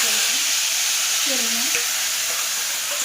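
Potatoes fry in oil with a spiced paste for dabeli, giving a continuous close-up sizzle and hiss that stays even throughout, with light stirring underneath.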